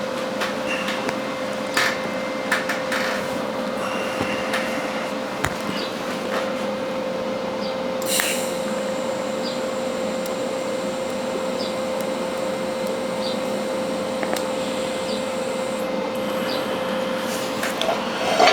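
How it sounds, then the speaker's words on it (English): TIG welding a metal sculpture mount, a steady electric hum with a constant tone and faint crackle running throughout, punctuated by a few light taps and clicks. "what I'll do now is just take my TIG rod and just weld this side in"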